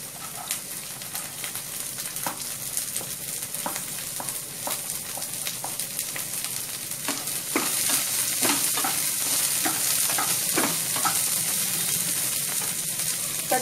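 Vegetables with green chilli and beans fry and are stirred in a pan: a steady close sizzle with repeated scraping strokes, growing slightly louder partway through, and no voices.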